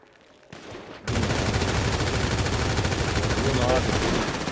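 Sustained automatic gunfire in a GTA 5 roleplay shootout, a dense rapid burst starting abruptly after a short quiet lead-in and continuing loud and steady to the end, with voices mixed in.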